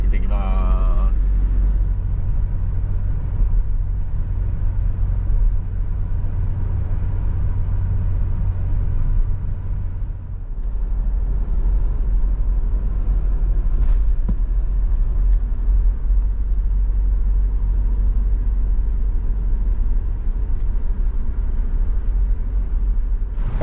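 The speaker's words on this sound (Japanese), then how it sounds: "でここからね羅臼までのんびりドライブ行ってきます。" Interior road noise from a camper car heading to Rausu on Hokkaido's Shiretoko Peninsula, heard as a steady, loud low rumble that dips briefly partway through, with no talking.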